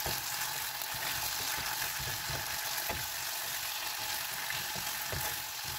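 Tuna pastel filling simmers with water in a pan, a low steady bubbling hiss with occasional soft spoon scrapes and taps as it is stirred.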